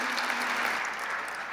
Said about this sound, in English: please stand so we can give them a round of applause